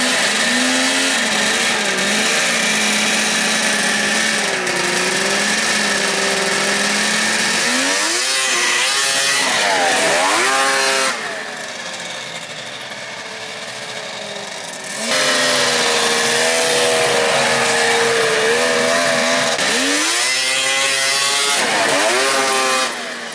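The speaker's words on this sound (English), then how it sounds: "Looks like Cheech and Chong did a snowmobile over there." A vintage Polaris triple-cylinder wedge snowmobile engine screams through repeated passes, its loud revving pitch rising and falling in sweeps, with a quieter lull in the middle before the roar returns.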